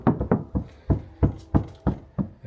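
Knuckles rap eight times in a steady rhythm on the untreated rear door panel of a GMC Sierra 2500 HD pickup, each knock loud, close and hollow, with no voices.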